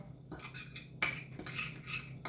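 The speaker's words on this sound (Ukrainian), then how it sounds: "І все гарно перемішую" Meat being mixed with a heaped teaspoon of meat spices for a meat roll, giving soft scraping and clinking of a spoon or utensil against a bowl in a few short strokes, close and alone.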